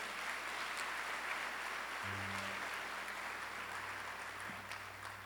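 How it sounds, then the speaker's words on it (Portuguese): A church congregation claps together in a broad, sustained wash of applause that fills the room, with a low organ-like tone entering partway through and the clapping easing slightly at the end. "Dá uma salva de palmas a Ele."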